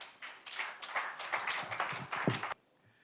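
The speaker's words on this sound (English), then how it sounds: "If you decide to clap, please clap." An audience at an International Day of Persons with Disabilities event claps for about two and a half seconds, a moderate patter of hands that stops abruptly, leaving near silence.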